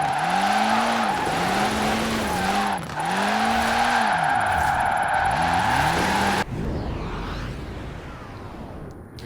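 A Citroen DS23 drifting in Forza Horizon 4, its engine note swooping up and down through repeated revs over a steady tire squeal for about six seconds, then cutting abruptly to a quieter, hissing rumble.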